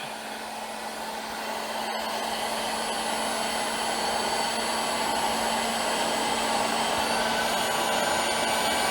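A hair dryer blows steadily and loudly, heating the rubber hoses of an Invacar's screenwash pump; the whirring drone holds an unbroken pitch throughout, with no talking.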